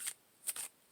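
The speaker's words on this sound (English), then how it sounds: "I am going to shuffle the cards a little bit more." Tarot cards being shuffled by hand in a quick, soft riffle: one short burst of papery flutter, a brief pause, then two more closely spaced bursts, faint and close, with no talking.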